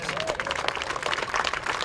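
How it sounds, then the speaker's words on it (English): Brief burst of crowd applause at a Moral Monday gathering, fairly faint and distant, lasting under two seconds. "That deserves a round of applause."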